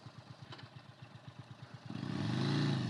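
A 2022 Indian Chief Bobber Dark Horse Stage 2 motorcycle idles with a steady loping pulse, then the throttle opens and the engine swells into a loud, sustained rev close by.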